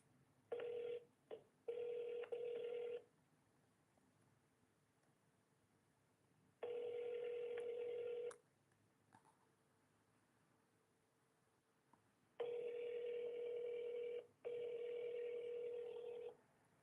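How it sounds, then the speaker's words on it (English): A telephone rings unanswered: long electronic ring bursts, repeated with silent gaps between, thin and faint over a low hiss, no voices. "There's no one picking up the phone?"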